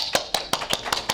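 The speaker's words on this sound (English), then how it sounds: "So I wish to clap hands for all of you." Hands clapping at a ship recycling conference in Singapore, six sharp, evenly spaced claps close and fairly loud, sounding like a single person or a small group rather than a full crowd.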